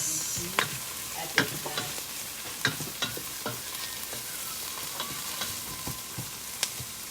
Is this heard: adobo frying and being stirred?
yes